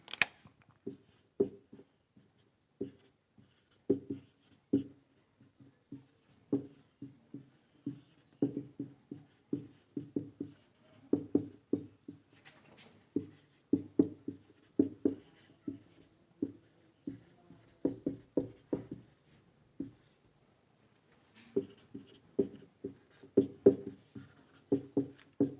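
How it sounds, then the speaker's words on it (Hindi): Chalk scratching on a classroom board as a teacher writes out a definition for a class 12 lesson, heard as close, rhythmic bursts of strokes and taps with brief pauses between words, and no talking. "इसकी डेफिनेशन लिख देता हूं मैं।"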